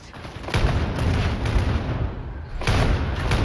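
Warhammer 40K: Darktide gameplay has heavy muffled booms and bursts of gunfire in quick succession: a grenade blast amid a chaotic firefight with a steady high whine over the top.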